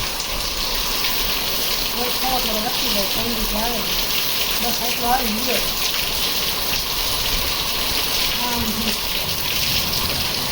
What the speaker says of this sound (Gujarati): આજ આપણે વરસાદ આવી ગયો છે